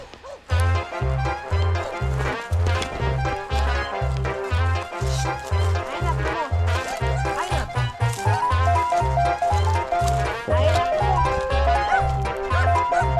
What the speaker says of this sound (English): We've got 3 dogs on us.